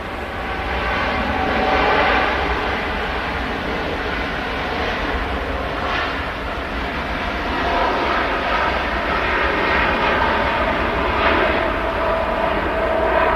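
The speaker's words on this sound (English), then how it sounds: "Here's your Saudia Dreamliner," A Saudia Boeing 787 Dreamliner taking off at Manchester Airport, heard as a loud, steady, broadband jet engine roar that holds strong for the whole stretch without a break, with no talking.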